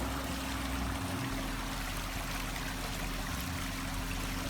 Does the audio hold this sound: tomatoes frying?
no